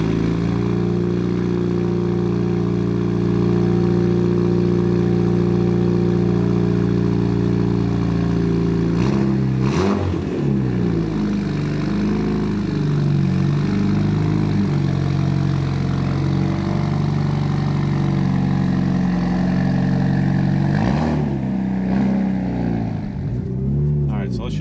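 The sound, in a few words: car engine idling and driving with exhaust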